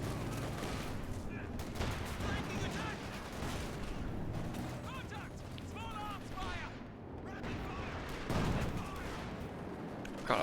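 Gunfire from units shooting at infantry in a real-time strategy match, a steady crackle of overlapping shots with booming bursts running throughout, heard beneath continuous commentary.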